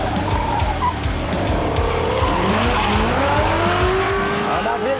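A Ford Mustang races hard around a hairpin bend, its engine roaring and revving while the tires skid and squeal through the turn. The sound is loud and close, with a voice talking over it.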